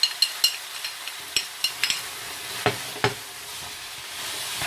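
Chicken breast browning in a pan toward golden, giving a light steady sizzle with scattered scraping stir sounds and a few sharp clinks of a utensil, fairly close and with no voices.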